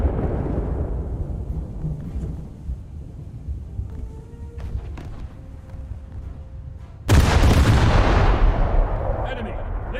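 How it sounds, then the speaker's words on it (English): Warship naval guns firing a salvo in a warship video game, a sudden heavy booming blast with a long rolling rumble after it, following quieter low engine and sea ambience with faint speech. "I did actually hit it with that salvo"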